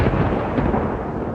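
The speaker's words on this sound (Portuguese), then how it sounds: "Novamente, trovões e relâmpagos se fizeram ouvir" Thunder rolls through a dark tale set in the Amazon, a dense, continuous rumble that stays loud and steady for its whole short length, with no voices over it.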